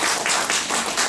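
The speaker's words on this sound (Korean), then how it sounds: "그래 박수." Listeners at a Buddhist doctrine lecture break into applause, a short, loud burst of many hands clapping together in a dense, even patter lasting about a second, with no speech over it.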